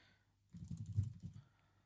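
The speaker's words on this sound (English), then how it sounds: "I'm just going to start typing up some things" A short burst of typing on a computer keyboard, a quick flurry of soft, close clicks lasting about a second within a quiet room.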